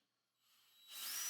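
A power drill with a countersink bit pre-drills into a 2x4 wood board, starting faint and quickly rising to a loud, steady whine.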